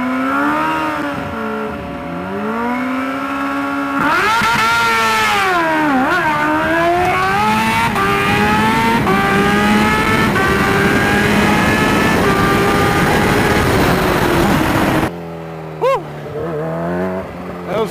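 Kawasaki Ninja H2 motorcycle making a drag strip run, a loud close engine screaming up through rising revs and gear changes for about fifteen seconds, then cutting off sharply to a lower idle burble.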